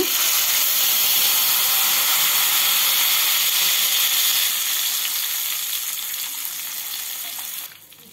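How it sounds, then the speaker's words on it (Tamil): Loud, steady sizzling and hissing of tamarind water hitting a hot pan, fading gradually toward the end before cutting off. "இப்போ கரைச்சி வச்சுருந்த புளியை ஊற்றிக்கோங்க"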